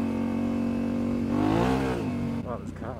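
A four-wheel-drive car passes close by, its engine note swelling and sweeping in pitch as it goes, heard from a motorcycle over steady engine drone, with the passing vehicle fading near the end.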